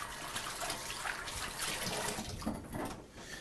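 Tap water runs steadily while a hand is washed at a home kitchen sink. The flow is a continuous close splashing hiss with slight shifts as the hand moves under it, and no one talks.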